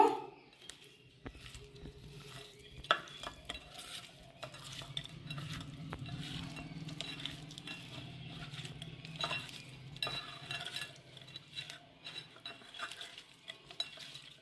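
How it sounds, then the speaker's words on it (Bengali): Raw prawns are mixed with salt and turmeric in a bowl, giving soft, irregular squelching and stirring sounds with occasional light clinks against the dish. The sounds are quiet and close, with no talking. "ভালো করে মেখে নিয়েছি"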